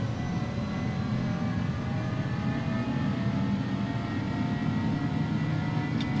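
Steady broadband jet engine roar from an iniBuilds A300 airliner at takeoff power during its takeoff roll in X-Plane 11, loud and continuous with a constant rumble and no voices.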